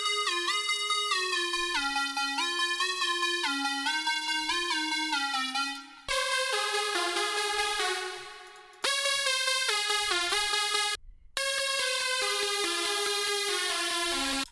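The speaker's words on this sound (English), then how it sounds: "And then we have the drop lead" A bright, buzzy EDM synth lead plays the drop melody in repeating stepwise phrases, loud and alone, with a couple of abrupt cuts between sections.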